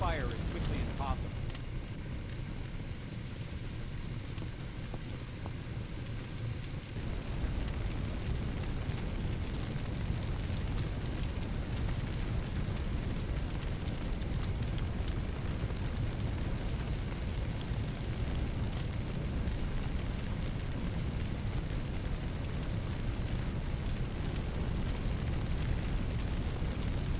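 Hose water sprays onto flames in the Firefighting Simulator game, a steady loud rushing hiss with crackling fire, continuous throughout with a brief shift early on.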